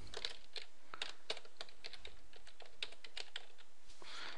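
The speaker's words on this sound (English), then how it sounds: "Type in this big long number" Fingers tap out a long number on a computer keyboard, with close, crisp keystrokes in an uneven run and short pauses between groups.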